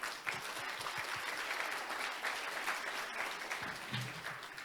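Conference audience applauding the team from Turkey at an annual gathering in Jeju, a sustained dense patter of many hands throughout, fairly faint and unbroken by speech.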